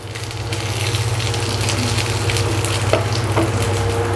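Chicken 65 frying in sauce in a pan, turned over with a ladle: a steady, fairly loud sizzle with a low hum beneath and a few scraping stirs, continuous with no voices.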